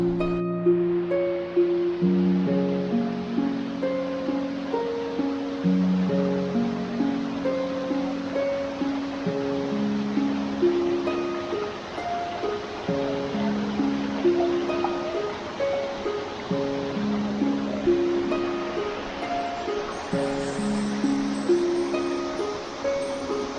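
A waterfall and stream in the Velimalai rainforest produce a steady, loud, broadband rush of water throughout, with sustained tonal notes layered over it.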